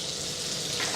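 Tomato slices fry in a pan, giving a steady close sizzle and crackle that stays even throughout the short moment.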